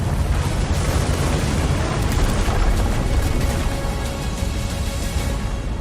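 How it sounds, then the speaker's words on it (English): Sustained rumble of crumbling debris and breaking objects in the video game World of Tanks, loud and steady for several seconds, with a noisy crackling texture and no speech. "destruction sounds vary depending on object size and materials"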